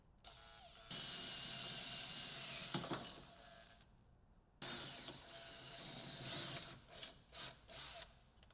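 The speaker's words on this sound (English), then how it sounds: "with light pressure and high rotation speed, drill the 4 brake line rivets out of the upper A-arm" Power drill at high rotation speed boring out brake line rivets on the upper A-arm of a Polaris RZR Turbo R, two sustained whining bursts separated by a pause, each ending in short grinding catches, close and alone.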